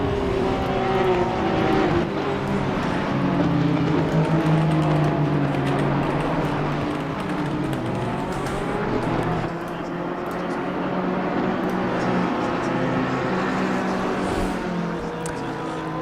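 Porsche race cars circle the Paul Ricard circuit in a racing video game, their engines whining and droning continuously with shifting pitch as they chase each other closely, under steady commentary.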